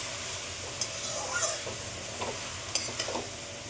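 Snakehead fish head and bottle gourd are stirred in a pan for a Bengali lau ghonto, giving a soft steady sizzle with a few light scraping clicks from the spatula.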